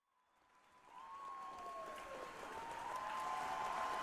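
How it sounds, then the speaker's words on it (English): A video game crowd cheers and claps in a distant, swelling roar that builds from near silence into sustained, fairly faint applause. "It sounds like a cheer."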